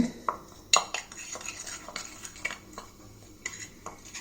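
Neem Active toothpaste being mixed into a paste with a spoon in a small bowl, giving sparse light clinks and scrapes at irregular intervals, fairly quiet and close, with no talking.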